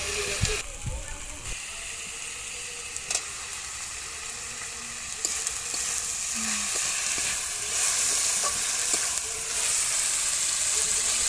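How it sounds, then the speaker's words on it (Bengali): Garlic fries and is stirred in a pan, with a continuous close sizzle broken by scraping and clattering. A louder burst of sizzling follows as tomatoes are dropped in. "কিছুক্ষণ নাড়াচাড়া করে বন্ধুরা একটু রসুনটা লাল হয়ে গেছে এইবার দিয়ে দেবো টমেটো"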